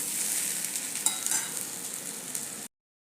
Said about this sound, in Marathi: आता इथे आपली वडी परतून छान तयार आहे.